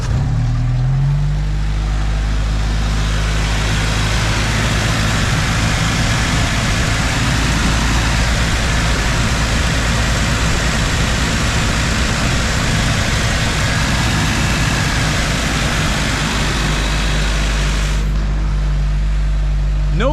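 A Jeep Wrangler engine idles steadily after an injector upgrade, a loud, even low rumble that holds for the whole stretch with no revving.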